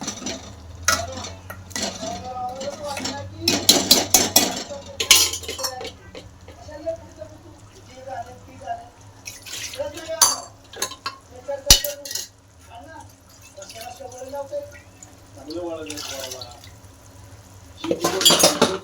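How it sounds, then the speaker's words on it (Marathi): A metal spoon stirs and scrapes mutton through oily masala in a pot, with clinks and light sizzling in bursts between stretches of someone talking. "आपले मटण ते टाकून घेऊ हे पण चांगलं याच्यात परतून घेऊ"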